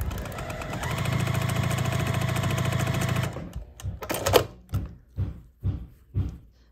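Sewing machine stitching quilt block pieces, a fast steady mechanical whir for about three seconds, then stopping, followed by several separate clunks and rustles of handling fabric.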